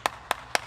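Three sharp, evenly spaced hand claps ring out close by in a podcast studio as a guest is welcomed, each a crisp isolated snap.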